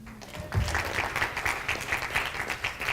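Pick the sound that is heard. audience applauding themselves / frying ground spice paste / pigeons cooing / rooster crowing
audience applauding themselves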